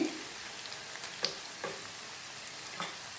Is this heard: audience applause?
no